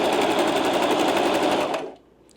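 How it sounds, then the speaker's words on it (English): A sewing machine running a zigzag stitch, loud and close with a fast steady mechanical whir for almost two seconds before stopping abruptly. "I want to try a zigzag stitch"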